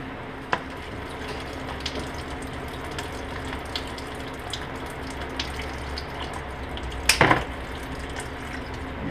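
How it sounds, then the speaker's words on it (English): Engine coolant drains from the drain cock of a Subaru STi engine through a hose, giving a faint, steady trickle of liquid with occasional small clicks and a brief clatter near the end. "I've got a good bit of coolant drained using the drain cock there"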